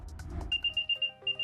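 Apple AirTag beeping: a quick run of bright, high electronic chirps in a steady pulsing rhythm, clear and close, after a brief low muffled rumble.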